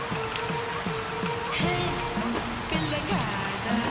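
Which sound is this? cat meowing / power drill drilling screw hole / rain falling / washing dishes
rain falling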